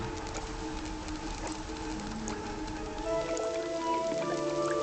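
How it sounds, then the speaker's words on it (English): Rain patters steadily in the Genshin Impact video game, a soft, continuous spatter of drops with faint bird calls and scattered ambient tones under it, no voices. "Oh, it's raining."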